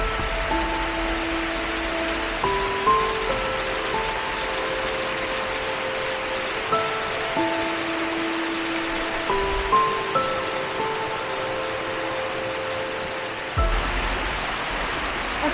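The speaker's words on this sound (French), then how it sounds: "ce sera une cascade version mini" A small, timid waterfall at Lac de Plaa de Prat in the Pyrenees makes a constant broadband rush, with faint melodic tones drifting over the steady water noise.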